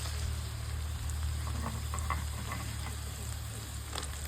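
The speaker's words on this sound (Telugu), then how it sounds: "ఈ ఉల్లిపాయలు వేసి మరొక 2 నిమిషాల పాటు బాగా వేగనిద్దాం." Onions frying in a pan with chillies and garlic, a steady soft sizzle with faint crackles over a low hum, quiet and close, with no talk.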